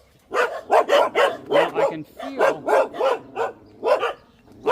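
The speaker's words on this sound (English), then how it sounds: "I know the dogs are on my left" Dogs bark in a steady run of about a dozen loud, close barks on a street in Chiang Rai, with someone talking briefly over them.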